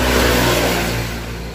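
Steady, loud motor hum from an old junk-shop washing machine being repaired, a continuous drone that fades slightly toward the end, with no voices.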